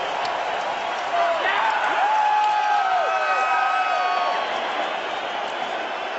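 A stadium crowd of 55,000 at a UFC fight cheering for Rory Macdonald, a dense, sustained roar with whistles and shouts, distant and continuous under a commentator's voice.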